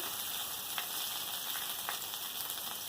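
Bitter gourd, potato and drumstick pieces stir-fry for shukto in a pan, giving a dense, even sizzle with a few light stirring knocks, close up and without talk.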